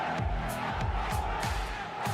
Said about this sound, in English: the crowd are cheering 1 more game.